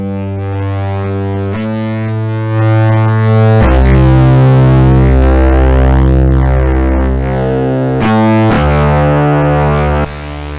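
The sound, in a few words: Luna synth bass notes with distortion in Propellerhead Reason 10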